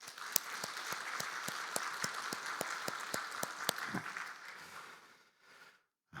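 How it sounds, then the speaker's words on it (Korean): A church congregation claps as a blessing for the women who sang, a quiet, roomy applause with evenly paced sharp claps that fade out toward silence after about four seconds. "축복의 박수 한번 드리죠"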